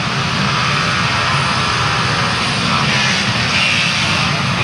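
Grasstrack racing motorcycles at the 1991 Frittenden Flyer final roar together at the start line, a loud, continuous, dense engine drone filling the whole stretch without letup.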